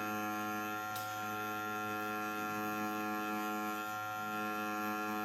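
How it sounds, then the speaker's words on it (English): An electric tattoo machine runs steadily during practice on synthetic skin, giving a constant even buzz with a faint click near the start and no talking over it. "Now when I'm dipping my needle in,"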